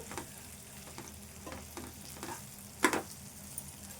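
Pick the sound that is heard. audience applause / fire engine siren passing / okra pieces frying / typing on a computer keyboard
okra pieces frying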